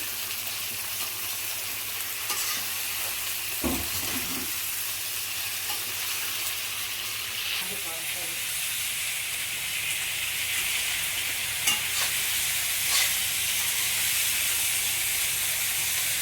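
Paneer frying in hot oil in a kadai, a steady soft sizzle and hiss throughout with a few faint clinks of stirring.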